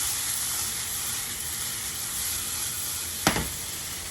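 Green onions tossed into a pan of fresh tomato sauce with sausage, a constant bright sizzle with one sharp clatter-splash partway through as the pan is tossed.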